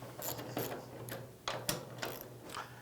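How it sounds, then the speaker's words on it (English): Close ratcheting clicks and metallic ticks from a wrench loosening the fence bolts on a miter saw, in short irregular bursts with a sharp snap midway and no voices. "And now begin loosening the bolts."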